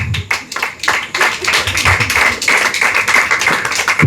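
Small audience at an evening debate breaking into loose, uneven clapping, individual sharp claps close by and fairly loud, steady for a few seconds with no voices over it.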